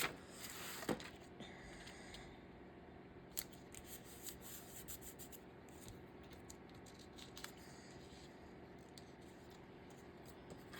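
Scissors cutting through a sticker label in a quiet room, a run of soft close snips and rustles with a sharper cut near the start, faint overall, with no talking.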